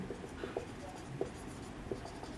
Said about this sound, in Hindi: एक सेकंड नीचे लिख देता हूं